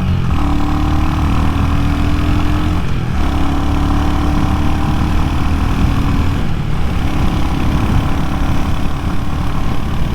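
A 2023 Royal Enfield Hunter 350 motorcycle of about 20 horsepower accelerating, its steady loud engine drone rising in pitch through each gear, with two brief dips at the gear changes.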